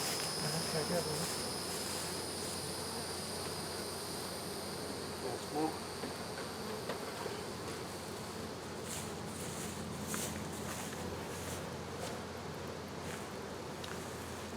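Honeybees buzz continuously at close range at an open hive, a dense insect drone with faint rustling and a brief murmur of a voice partway through.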